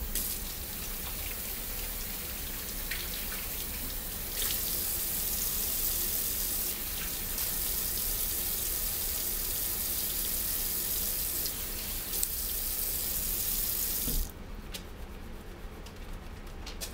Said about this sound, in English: So I'm going to wash my hands again to get any germs that had been on the outside of the bags off of my hands